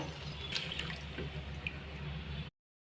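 Water running steadily into a pot of crab-vegetable sambar with tamarind, a close, continuous pouring splash with faint drips that stops abruptly after about two and a half seconds.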